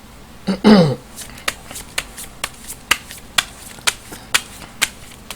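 Tarot cards are handled close up: a quick riffling flutter is followed by a steady series of crisp card snaps and taps, about two or three per second.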